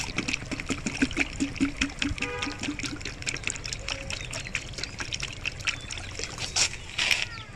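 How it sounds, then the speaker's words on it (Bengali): Rice-washing water is poured in a steady trickle and splash onto sand for an organic fertiliser mix, continuing throughout at close range, with faint speech-like sounds in places. "একটু জল দিব এটা চাল চাল ধোয়া জল"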